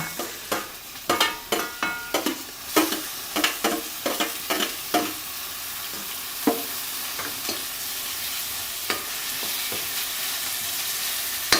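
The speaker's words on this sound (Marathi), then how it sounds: "चांगलं मग ऊसपर्यंत टमाटे आणि कांदा परतून घ्यायचं तेलात" Tomatoes and onion sautéing in oil in a pan for prawn masala, a continuous hiss of frying under a quick run of sharp spoon scrapes and taps early on, the stirring thinning out to occasional knocks later.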